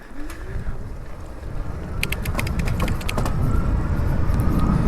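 A Hiboy EX7 1000-watt full-suspension electric bike ridden at full throttle while pedaling hard, the rising motor whine buried under heavy rushing wind noise with faint clicks partway through.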